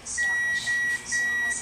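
A Samsung automatic washing machine buzzer gives three short electronic beeps in quick succession, a steady pure tone, with faint hissy noise behind them.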